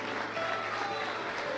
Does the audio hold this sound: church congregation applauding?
yes